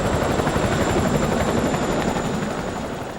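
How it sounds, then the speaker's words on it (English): Military helicopter delivering ration packs to front-line troops, its rotor a loud, steady thudding drone with dense broadband roar that holds throughout and eases slightly toward the end. "The troops survive mainly on ration packs delivered by helicopter."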